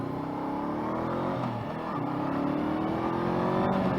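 A 2021 Honda CB500F motorcycle engine pulls hard through the gears, its pitch climbing steadily, dropping at a shift, then rising again, close and continuous with no talking.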